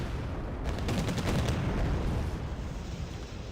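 Tanks open fire in Wargame Red Dragon as a dense rumble of gunfire and explosions, with rapid repeated shots rolling over a constant loud battle din.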